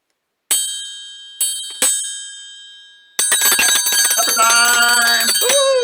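A metal triangle is struck three times, each clear bright ring decaying slowly, before a fast sustained roll of loud shimmering rings fills the rest of the moment.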